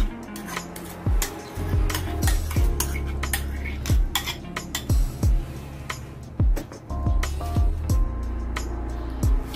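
Avocado paste being spread thinly with a metal utensil, giving repeated scraping clinks and taps in an irregular rhythm, close and fairly loud with no voices.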